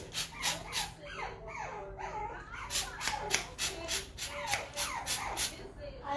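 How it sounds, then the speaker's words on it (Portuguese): A small dog whimpers and yips in short repeated high cries, fairly close, mixed with shuffling in a kitchen where a flamingo-themed cake is being decorated. "não provoca o cachorrinho, não."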